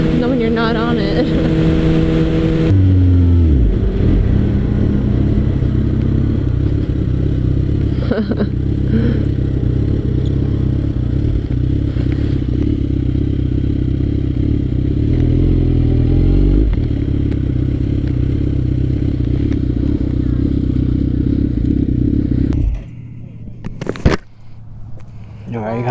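A steady, droning engine hum from a motorcycle in motion, loud and continuous, easing off near the end as it slows.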